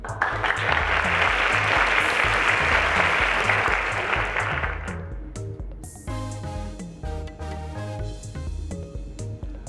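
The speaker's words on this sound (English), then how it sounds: "please a round of applause to our teacher" Audience applause for teachers at a school quiz awards ceremony, a dense steady burst that fades after about five seconds, giving way to music with a low pulsing beat.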